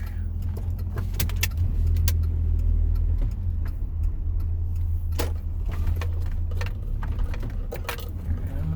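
A car drives steadily through a parking lot at low speed, its engine a continuous low hum with occasional light rattles and clicks inside the cabin; no one speaks.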